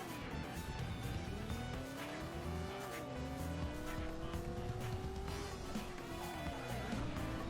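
A car in the video game Driver, roaming a small English-style city, revs steadily with rising and falling engine pitch and tire squeal, a continuous loud drone from start to finish with no talking.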